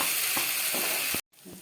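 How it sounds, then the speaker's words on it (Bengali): Whole spices frying in oil in a pan for a vegetarian cauliflower roast, a steady close sizzle that cuts out abruptly, then faint quieter frying. "এখন 1 মিনিট মতো ভেজে দিতে হবে।"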